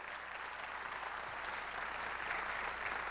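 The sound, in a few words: audience applause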